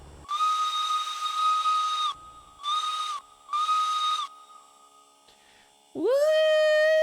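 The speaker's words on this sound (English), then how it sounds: "It's so cute. It's the cutest little steam engine sound." A small steam whistle sounds in three bursts, a long one then two short toots, over a steady hiss, followed by a rising whistle that holds loud and near.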